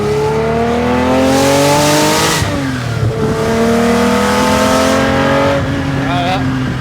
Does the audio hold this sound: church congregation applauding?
no